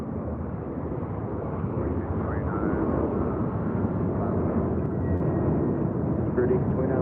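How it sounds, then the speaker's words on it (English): A jet airliner taking off from runway 25 right at LAX, a loud, steady low roar of engines filling the whole stretch with a broad rumbling texture. "clear for takeoff 25 right"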